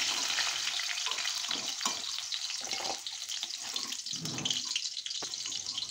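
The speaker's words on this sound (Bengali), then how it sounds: "আলুটা একটু লাল লাল করে ভাজা হলে এবার তুলে রাখবো।" Potato pieces frying in oil in a kadai while they turn reddish, a steady close sizzle with soft stirring and scraping running throughout, a few sharper clicks along the way, and no one speaking.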